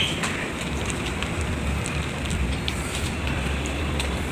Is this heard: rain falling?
yes